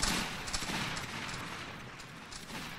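A ragged musket volley rings out in a Roblox Waterloo battle between redcoat line infantry and riflemen, a dense burst of overlapping shots that decays into scattered cracks, with distant crowd noise behind.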